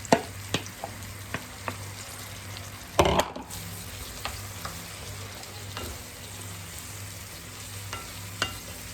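Tomatoes tipped into a pan of frying sausages for Turkish menemen: a steady close sizzle with scattered clicks, then a sudden louder splash and hiss around the midpoint before the frying settles back to an even crackle.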